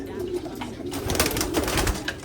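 Checkered PHA-banded racing pigeons cooing and fluttering close by, soft throaty calls with a rustle of wings under a voice talking.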